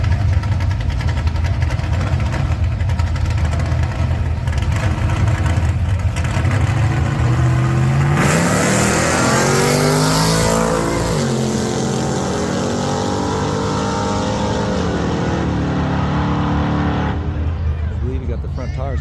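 Engine roar of a 1967 Chevy Nova accelerating hard at a Coos Bay, Oregon drag race, loud and continuous, with a sharp rising rev sweep midway as it launches, under crowd noise and voices.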